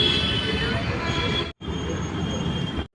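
A metro train at Nagole metro station gives a loud, steady rumble with high wheel squeal, cut by two brief silences, with some voices mixed in.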